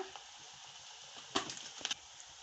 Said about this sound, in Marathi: कांदा चांगला असा मऊ गुलाबी होईपर्यंत परतून घ्यायचा